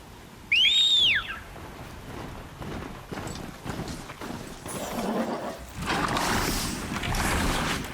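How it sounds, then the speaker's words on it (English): In Horizon Zero Dawn The Frozen Wilds, a whistle calls a mount. A bright, clear, rising-and-falling whistle sounds once near the start, followed by softer footsteps, hoof-like clopping and rustling game ambience. "Have a whistle for me"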